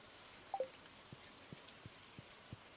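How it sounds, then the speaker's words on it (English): Soft rain falls in the farming video game Stardew Valley, a faint steady patter broken by a few light, evenly spaced drip taps and a couple of brief chimes. "Well, it's a rainy day"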